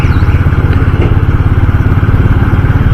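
Motorcycle engine running steadily while riding over a flyover in Medinipur town, a loud, close, continuous rumble with a fast regular pulse and no talk.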